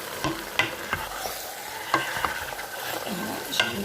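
Chickpeas sauté and sizzle in a pan for couscous, with a steady frying hiss broken by scraping stirs and the clatter of the peas shifting, close up and without speech.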